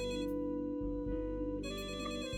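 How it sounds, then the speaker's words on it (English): A video-game office telephone rings loudly and continuously with a repeating electronic tone pattern, steady and close, with no talk. "Oh my god, a phone is making a noise."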